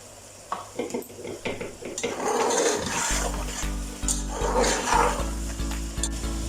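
Chicken biryani masala with raisins being fried and stirred in a pot, a steady low sizzle with scraping and metallic clinks of a spoon against the pot, fairly quiet and without talk.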